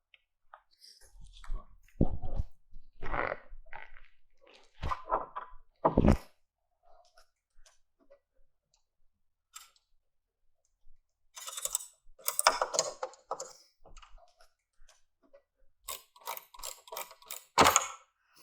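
A socket wrench tightens nuts on an Undercover Ultra-flex tonneau cover on a Jeep Gladiator JT, making close, quick ratcheting clicks in separate bursts with quiet pauses between them.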